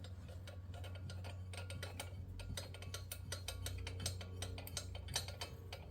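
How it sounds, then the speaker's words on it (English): A ratchet tightens a countersunk bolt on an A/C compressor bracket during an LS swap on a C3, with rapid, close, steady clicking in quick runs over a low background hum. "I'm going to run this countersunk bolt up till it's snug"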